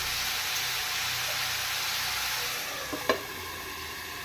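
Food fries steadily in hot oil in a covered pan while cooking chaprada avarekai gojju, a dense even hiss throughout with a small knock near the end and no voices.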